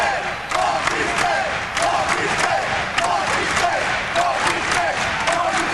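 A large basketball arena crowd at a Long Beach State game against Santa Barbara roars and cheers steadily throughout, while a commentator talks over the noise.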